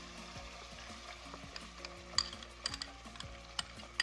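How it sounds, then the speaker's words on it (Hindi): Yogurt stirred into frying onions for a dhaba-style egg curry, a low, steady sizzle with soft scraping and scattered clinks of a spoon against the pan, recorded close and fairly quiet. "अब इसमें हम दही डालते हैं जो हमने"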